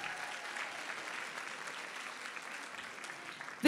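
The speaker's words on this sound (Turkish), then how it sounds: "Kocaman alkış istiyorum." A crowd at a fashion show applauds in a continuous, even roar of clapping heard from some distance, ending with a sudden loud bump at the very end.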